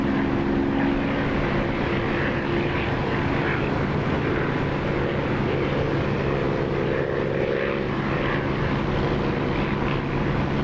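A helicopter in the DCS flight simulator game hovers and descends to land, its engine and rotor drone steady and loud with faint tonal whine shifts throughout, no talk.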